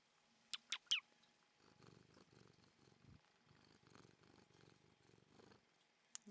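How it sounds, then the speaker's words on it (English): A cat purring up close against a microphone, a soft rumbling buzz that runs for several seconds after a few brief high chirps, quiet and intimate with no talking. "She's like purring against my microphone."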